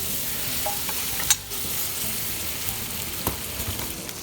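Butter melts in a pot with a constant close sizzle and light bubbling, broken by a couple of brief clinks, no talking.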